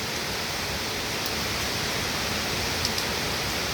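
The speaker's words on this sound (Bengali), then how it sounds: "সকাল থেকে বৃষ্টি হচ্ছে।" Steady rain falls without pause at home on a July morning, a dense, even hiss with a few faint splashes over nearly four seconds and no voices.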